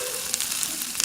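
Mustard seeds sizzling and crackling in hot oil in a kadai, a dense continuous fry with small pops, close and steady throughout.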